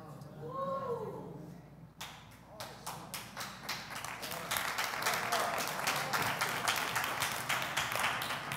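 An audience listening to a preacher claps along after a brief stretch of his voice, giving a steady train of fairly regular claps over a low room murmur that continues to the end.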